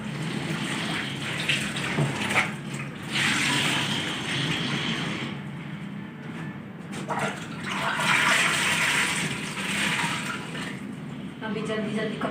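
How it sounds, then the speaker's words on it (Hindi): Clothes being washed at home under running water make a loud, continuous gush and splash that swells and dips with occasional louder surges, close by. "फिर कपड़े धोते हैं।"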